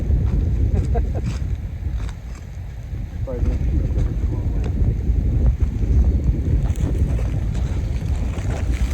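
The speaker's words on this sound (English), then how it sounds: "The wind's whipping." Strong wind buffets outdoors beside a boat, a constant loud low roar of gusts hitting the microphone, with faint bits of voices mixed into the rumble.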